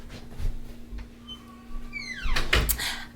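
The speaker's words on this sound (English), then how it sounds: "Actually, let me close the door." A door in a house is pulled shut, with soft handling bumps first, then a squeaky creak of the hinges and a solid thud as it closes, nearby and fairly clear over a faint background hum.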